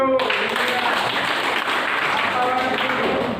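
A crowd of people at a gathering applauds together in a steady, dense wash of clapping that holds evenly throughout, close and loud, with no talk over it.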